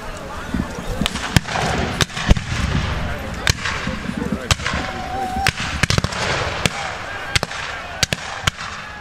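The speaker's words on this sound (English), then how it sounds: "So if you see them firing down the line, that's fire by files." Civil War reenactors fire muskets down the line in fire by files at the Battle at Narcoossee Mill, a run of sharp, separate reports spaced unevenly over steady crowd murmur and talk, with some shots near and loud, others softer.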